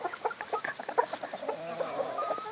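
Roosters cluck in short, rapid bursts close by, several overlapping calls in a quiet setting.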